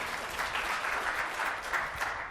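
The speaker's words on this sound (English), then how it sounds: "Give yourself a round of applause." Brief burst of dense audience applause at a tech industry conference, many hands clapping together in a large room, loud and sustained for a couple of seconds before starting to fade.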